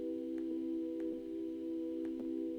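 A steady, faint sine-wave synthesizer tone through a high-pass filter, with stacked harmonic lines, holding nearly constant with a few soft ticks across a couple of seconds.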